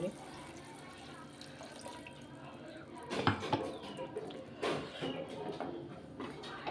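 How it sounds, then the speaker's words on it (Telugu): Water from a mixer jar splashes and pours into a pan of egg masala curry in a couple of louder bursts, with a steady running-water hiss underneath and no talking. "మిక్సీ పట్టిన నీళ్ళు కొన్ని పోస్తాను"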